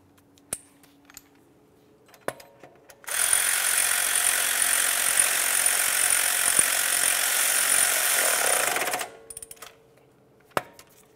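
A ratchet tightens the coil spring mounting bolt on a 2007–2018 Jeep Wrangler, whirring continuously for about six seconds, close up, with a few scattered clicks before and after.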